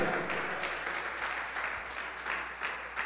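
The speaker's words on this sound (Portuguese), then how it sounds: "Pode aplaudir a Jesus." Congregation applauding during a church sermon, a faint, distant wash of clapping in a reverberant hall with a low electrical hum underneath, steady for a few seconds with no talk over it.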